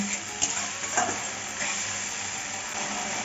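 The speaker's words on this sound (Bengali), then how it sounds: "এখন টমেটো বাটাকে দিয়ে নিচ্ছি এখন ভালো করে নেড়ে নেড়ে কষি নেব" Tomato paste stir-frying in a pan for a Bengali jackfruit curry, a continuous close sizzle with a few soft scraping stirs near the start, no voices.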